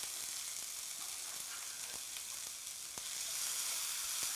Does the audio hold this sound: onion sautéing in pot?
yes